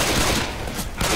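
Dense, continuous gunfire from weapons in the zombie shooter game Left 4 Dead 2, a loud, rapid volley of overlapping shots filling the whole moment without pause.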